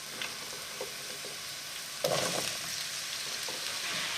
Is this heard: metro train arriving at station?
no